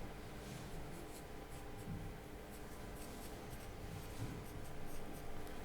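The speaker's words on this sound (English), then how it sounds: "we'll write this down." Pen or pencil writing out a maths sum on paper, a continuous close scratching and scraping with small pauses between strokes, heard alone without talk for several seconds.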